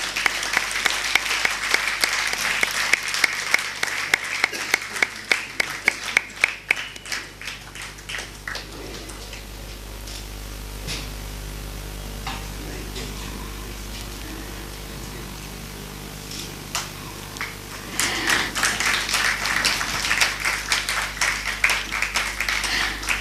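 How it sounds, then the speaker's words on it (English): Audience applause at a lecture on modern life and spirituality, a long burst of dense clapping that fades to quieter room noise midway, then swells again loudly near the end. "Big round of applause."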